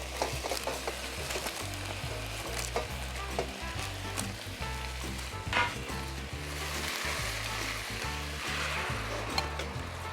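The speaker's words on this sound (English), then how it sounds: "and then we are going to put our sauce. We're putting a homemade teriyaki sauce." Homemade teriyaki sauce sizzles steadily in a pan with chicken, a dense continuous frying hiss with occasional stirring scrapes, close and moderately loud, with a rhythmic low hum running underneath.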